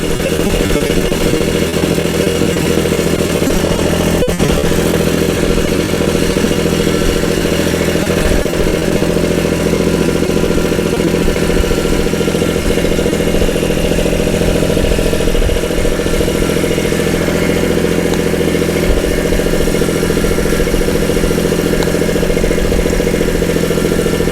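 A small vehicle engine runs steadily and loudly, pulling an Agri Fab 48 by 24 inch steel roller back and forth across a rough field, a constant droning hum with mechanical clatter and no talk.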